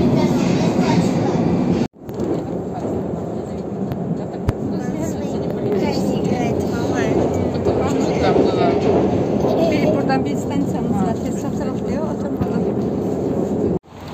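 A metro subway train rumbles and clatters steadily with a loud roar throughout, with a brief break near the start, as voices murmur faintly underneath.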